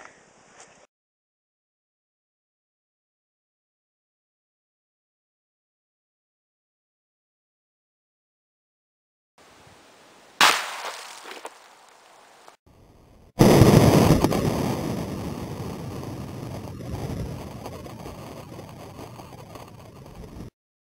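Gargoyle big bore air rifle firing hollow-point rounds at a 75-yard range: a short sharp crack near 10.5 s, then a loud blast at about 13.5 s that trails off into a long noisy tail, with silence earlier.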